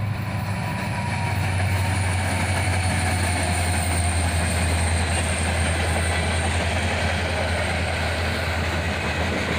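A southbound manifest freight led by two SD40-3 locomotives rolls past at track speed near Carlisle, Ohio, a loud, continuous roar of engines and wheels with a steady low drone throughout.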